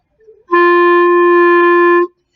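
A single sustained clarinet note, steady and clear, held for about a second and a half after a faint breathy start.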